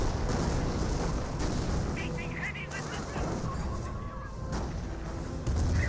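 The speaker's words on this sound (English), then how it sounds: "Nebel Warfare hitting the Rangers actually quite significantly." A Nebelwerfer rocket barrage in Company of Heroes pounds on as a dense, continuous rumble of explosions and gunfire with a commentator talking over it throughout.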